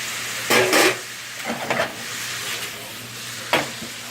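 Peppers and onions frying alongside browning meat for a steak sandwich, a steady background sizzle with a few bursts of stirring and scraping in the pan, heard up close.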